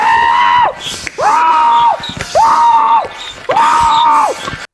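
Four long, wavering screams from a low-budget movie, each drawn out and loud with short breaks between, voiced by a man standing in for an actress.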